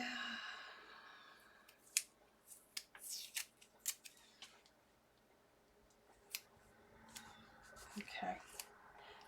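Scissors snip through paper to cut out a gingerbread face, a run of close, crisp cuts in an uneven rhythm with pauses, and quiet background sounds in between.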